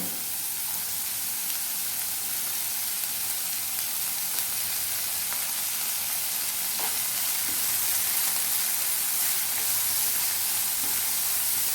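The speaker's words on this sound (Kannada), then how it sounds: "ಎಲ್ಲವನ್ನು ಸ್ವಲ್ಪ ಫ್ರೈ ಮಾಡ್ಕೊಳ್ಬೇಕು." Finely chopped cabbage stir-frying in hot oil for Schezwan fried rice, a loud continuous sizzle and hiss with scraping stirs, steady and close, with no talk.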